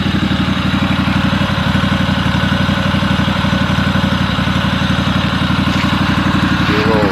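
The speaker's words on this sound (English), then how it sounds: "Do a little rev up. She's a smooth runner." A Craftsman GT6000 lawn tractor with a Kawasaki FD590V V-twin engine runs close and loud with a steady, smooth rhythmic throb and a slight rise in pace near the end, with no pauses.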